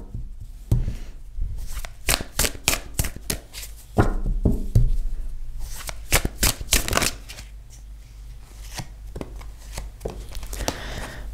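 Tarot cards shuffled by hand in a rapid run of crisp, close riffling flutters and snaps, followed by sharper taps and slides as cards are drawn and laid down, with no voices.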